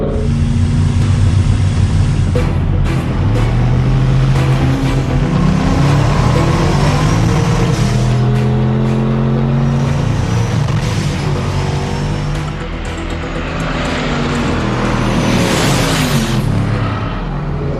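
A 1,000 hp hot rod with no full manual valve body roars loudly as it accelerates, its engine note climbing in repeated sweeps between gear shifts, close and sustained throughout.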